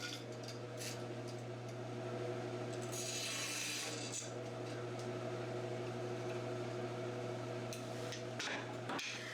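Steady rasping and rubbing of sanding the edges of CNC-cut wood pieces, continuous and fairly quiet throughout.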